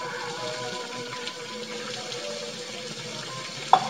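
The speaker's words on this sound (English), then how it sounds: "just going to pour a little bit of water in there" Water pours steadily into a pan in a home kitchen, a continuous close hiss and splash for a few seconds, ending in a brief clink.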